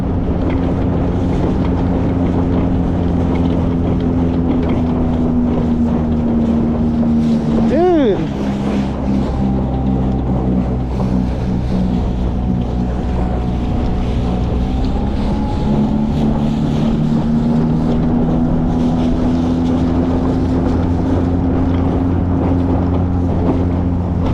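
A small outboard motor on a kayak drones steadily over choppy water and boat wake, with wind buffeting the microphone and a brief rising whine partway through.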